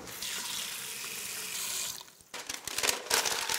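Water poured from a tap into a pan of carrots with olive oil to steam them, a steady rushing flow, then a splashier broken stream as it fills, close and alone.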